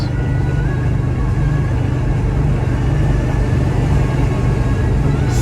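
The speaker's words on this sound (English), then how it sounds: "I'm going 80 miles an hour," A 1970 Chevrolet Chevelle Malibu V8 with a Turbo 350 automatic cruises at highway speed, a steady low engine rumble mixed with road and wind noise, constant and unbroken, with no voices.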